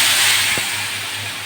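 Coated potato pieces fry in hot oil tempered with nigella seeds, giving a loud, continuous sizzling hiss that fades a little over a second and a half, with one soft bump partway through.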